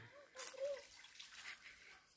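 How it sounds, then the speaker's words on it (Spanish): A small, clear, cold stream trickling and splashing gently outdoors, a faint, steady watery rush. "Ese sonido es relajante, tú sabías, como suena el agua."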